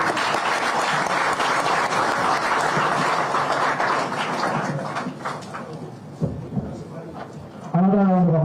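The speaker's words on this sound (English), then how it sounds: "Another round of applause for the newest Inspector General of Police, Federal Republic of Nigeria" Sustained, loud applause from a crowd at a Nigerian police handover ceremony for a new Inspector General, dense clapping that fades slightly before a voice begins speaking at the very end.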